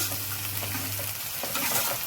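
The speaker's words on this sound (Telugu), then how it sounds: "ముందుగా ఉల్లిపాయలు వేసుకుందామండి ఉల్లిపాయలు కొంచెం బాగా వేగిన తర్వాత" Onions fry in a pan with a dense, steady sizzle and crackle, close and fairly loud, joined by faint stirring scrapes throughout. No voices are heard.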